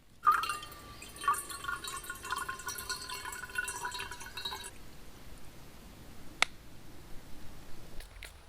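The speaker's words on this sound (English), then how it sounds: "I need to go and filter a load of water." Water being filtered at a riverside camp on the River Waveney, dripping and trickling in a faint, steady patter with a lone sharp click near the end; no talking.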